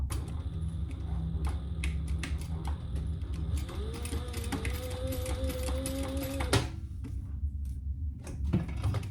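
Sewing machine stitching down the sides of a Martini crossover garment, a steady close running hum with clicking, tone rising partway through, then stopping.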